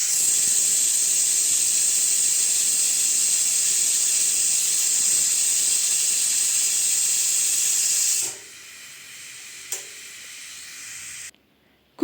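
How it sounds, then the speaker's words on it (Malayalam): A pressure cooker of Kerala-style ghee rice (neychoru) lets out a loud, steady high-pitched whistle of escaping steam for about eight seconds, then cuts off abruptly, leaving a brief tick and near silence. "എൻ്റെ കുക്കറിൽ 3 വിസിൽ തുടരെയാണ് വരുന്നത്"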